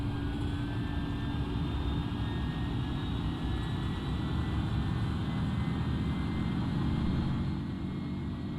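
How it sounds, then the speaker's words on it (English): Steady aircraft engine drone, like a passenger jet cabin during a flight roleplay, holds at an even level throughout with a deep low rumble and faint tonal whine, with no talking. "Engines stabilizing."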